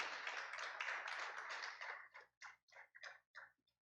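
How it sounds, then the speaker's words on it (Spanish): Church congregation applauding during a sermon, a dense sustained round of clapping that breaks into scattered, fading claps before stopping. "Dale un aplauso al Señor por ser un Cristo maravilloso."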